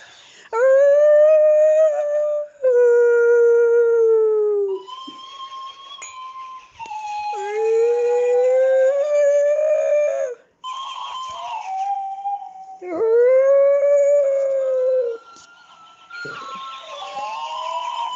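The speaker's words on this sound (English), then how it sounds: "Is it still howling?" A dog howls loud and close in long wavering rising and falling calls, several drawn-out howls separated by short breaths, with no talk over them.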